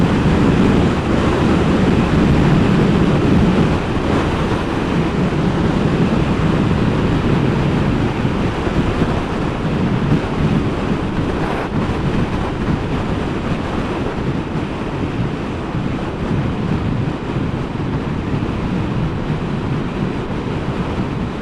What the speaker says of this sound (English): you can feel the wind at the top of this hill